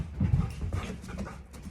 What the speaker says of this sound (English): it's a crazy dog, man.